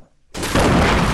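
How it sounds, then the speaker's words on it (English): A sudden loud video game grenade blast erupts after a brief near-silence, then a sustained roaring rumble fills the rest of the moment. "Oh, I hear a grenade."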